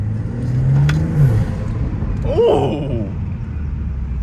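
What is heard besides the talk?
BMW M340i xDrive engine intake sound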